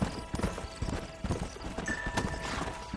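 Horse hooves clip-clopping in Red Dead Redemption 2, a quick steady trotting rhythm of close, loud hoofbeats across the whole stretch with a brief faint whinny-like tone midway.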